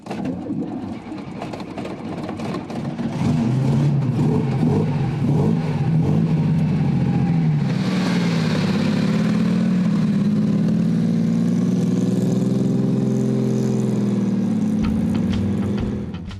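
A Berardino two-seater sports car engine revs up and holds a loud, steady growl with rising and falling pitch, close by, with no talking.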